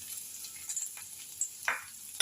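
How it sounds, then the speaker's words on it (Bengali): Chopped garlic goes into a wok of hot oil after eggs have been fried, giving a faint crackling sizzle with a few short sharp spurts, alone and fairly quiet. "এবার আমি কড়াইতে 1 চামচের মতো রসুন কুচি দিয়ে দেব"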